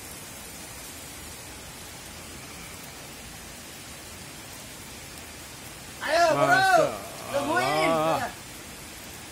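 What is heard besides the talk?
heavy rain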